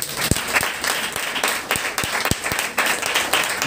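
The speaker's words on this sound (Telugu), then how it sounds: "కొట్టండి చప్పట్లో" A congregation at Sunday worship breaks into brisk applause, many hands clapping together in a dense, close burst with a few sharp single claps standing out.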